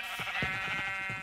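Sheep in the Minecraft video game bleat in several short, wavering calls spaced through the moment, set against a steady bright background tone of game sound.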